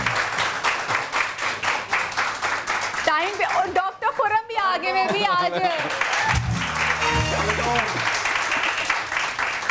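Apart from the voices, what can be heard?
studio audience applause for guests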